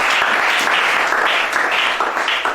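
A church congregation applauding, steady and loud clapping from many hands that fills the whole stretch without a break.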